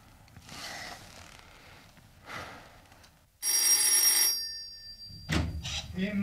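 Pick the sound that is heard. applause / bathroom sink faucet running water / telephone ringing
telephone ringing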